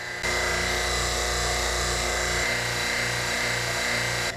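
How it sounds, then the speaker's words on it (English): A vacuum pump drones steadily with a low mechanical hum and whine, its rhythm shifting partway through into a rougher pulsing pattern as it starts making bad noises. "The vacuum pump is now making bad noises."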